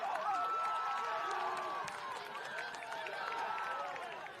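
A football crowd at Bensley Road Sporting Complex cheers and whoops after a St Marys goal in a men's league match, a sustained distant roar with shouts and clapping, a commentator's voice faintly over it.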